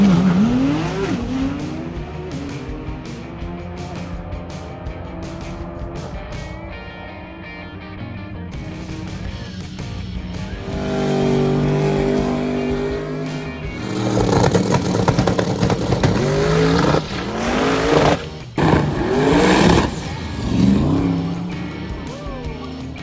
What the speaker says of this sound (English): it's time to see some fast cars.